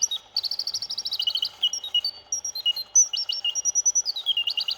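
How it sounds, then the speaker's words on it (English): An antique gilt bronze singing bird automaton, fully wound, trilling rapid high chirps and warbling runs in a continuous, bright, close song with no talk. "This is the most beautiful bird automaton."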